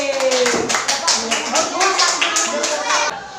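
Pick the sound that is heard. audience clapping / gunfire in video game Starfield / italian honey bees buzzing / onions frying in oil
audience clapping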